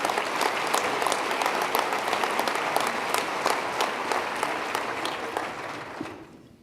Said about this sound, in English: Let's give yourselves a round of applause for really a great piece of work.